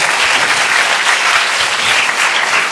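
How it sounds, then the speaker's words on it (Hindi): Loud, dense applause from a school audience at a mono-acting competition, a continuous roar of many hands clapping close by with no pauses. "तो बेटा कहाँ है वो तालियों का शोर?"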